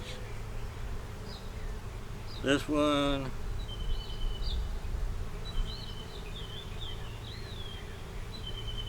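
A steady, low insect hum of many honey bees at an open hive fills the background, with a short voice breaking in briefly partway through.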